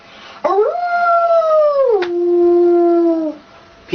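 A woman imitates a wolf howl, one long, loud, close call that rises, holds, then drops to a lower sustained tone before fading.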